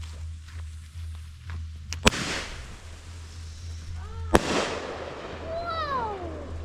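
Firework mortar shells fire outdoors: two sharp, loud blasts a couple of seconds apart with crackling tails, then several rising and falling whistling tones trailing off. Faint voices can be heard in the background.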